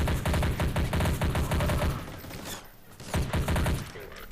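Gunfire in a sci-fi shooter video game rattles out in rapid automatic bursts, loud and dense, with a short lull before another burst.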